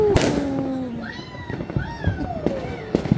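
New Year 2024 fireworks explode outdoors with sharp cracks and booms, several bursts and whistling rising streaks, while people talk nearby.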